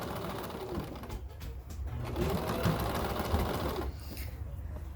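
A sewing machine runs steadily as fabric feeds under its presser foot, set up on a coffee table; a continuous near whirring hum with rapid stitching texture lasts throughout, slightly louder midway.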